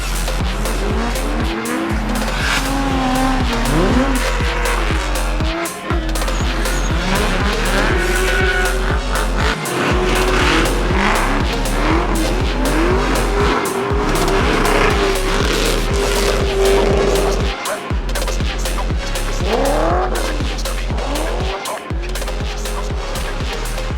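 A Corvette drifts at a GRIDLIFE motorsport event, its engine roaring loud and close while the tires squeal and skid almost continuously, broken by brief gaps as the car shifts and slides.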